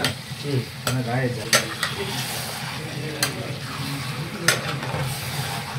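Chicken liver frying in oil in a pan as it is stirred, loud continuous sizzling with several sharp scraping and clanking strokes of the spoon, close up and without talk.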